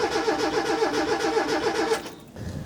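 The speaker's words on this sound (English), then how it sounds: "pull the relay out for the fuel pump, and then come in here and just crank it a couple times" Turbo Mazda Miata engine cranks with its fuel pump relay pulled, a rhythmic starter churn lasting about two seconds without catching, then stopping into quiet with a faint thump.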